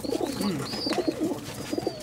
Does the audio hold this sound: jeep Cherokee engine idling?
no